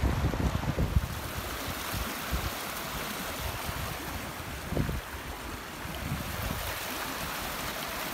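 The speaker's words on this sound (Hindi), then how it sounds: "पीछे से पानी आ रहा है कुछ बारिशों का पानी है कुछ पीछे से दरिया का पानी है" Floodwater from rain and a river rushing through a village in Punjab, Pakistan, a steady broadband roar of flowing water mixed with wind buffeting the microphone, close and continuous.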